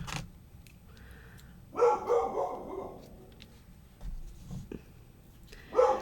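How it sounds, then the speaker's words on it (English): A dog barks in a few short bursts, fairly close, with quiet pauses between the outbursts and no talking. "I am so sorry that she is barking."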